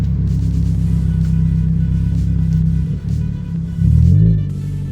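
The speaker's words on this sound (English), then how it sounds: "I can literally hear my intake." Engine intake of a Toyota Corolla Hatchback fitted with a Blitz strut tower bar, heard from inside as a steady low drone that dips briefly, then swells louder as the engine pulls harder.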